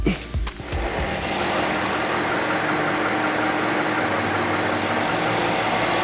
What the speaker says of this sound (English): Since this vehicle is hot, we will crank it and check it.